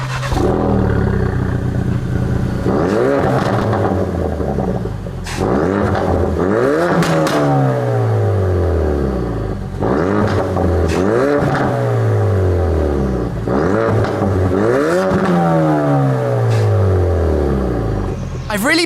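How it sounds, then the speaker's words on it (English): A Ford Focus RS with a Mountune exhaust in normal mode revs up repeatedly in loud rising sweeps, each followed by sharp popping crackles as the engine falls back, several cycles in a row. "I wasn't expecting so many crackles in normal"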